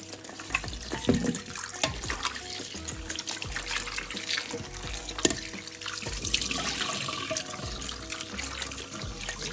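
Tap water runs steadily into a sink while onions are washed by hand, with a continuous splashing and gurgling flow and occasional louder splashes.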